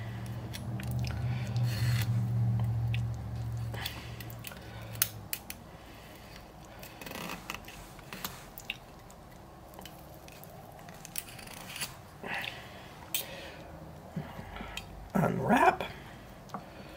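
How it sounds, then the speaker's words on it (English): Kitchen string being snipped on a stuffed pork loin: quiet crisp cutting snips and handling noises spread through the clip, close by, with a brief louder scrape near the end. "So let's just slice through our strings."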